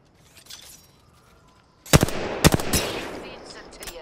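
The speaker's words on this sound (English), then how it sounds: "Oh, getting shot at." Gunfire in Apex Legends Season 19. After a quiet stretch with faint voice, sharp close shots crack out in a rapid cluster, then more scattered bursts follow over a busy background.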